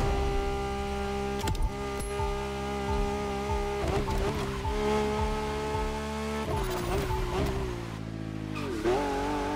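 A Ford GT500 in The Crew Motorfest racing game roars with a loud, harmonic engine note that sweeps up and down through gear changes, punctuated by repeated tire squeals and skids, continuous and close.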